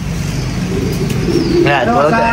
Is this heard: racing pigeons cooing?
yes